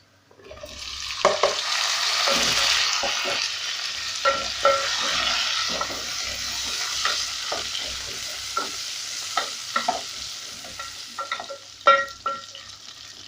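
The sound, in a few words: beef added to frying onions, sizzling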